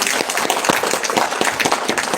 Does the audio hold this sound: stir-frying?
no